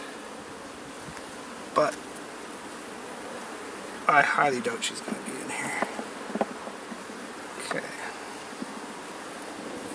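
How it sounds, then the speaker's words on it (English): Honey bees in a nucleus colony hive hum and buzz steadily and close during an inspection, with brief louder bursts as individual bees fly near; a person speaks briefly partway through. "There's a decent amount of bees"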